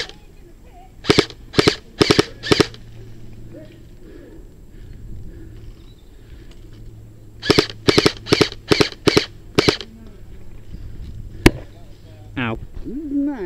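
Airsoft guns fire outdoors during a sunny skirmish: two bursts of sharp, snappy shots, one cluster early and a longer volley around the middle, with a faint voice and background noise between them.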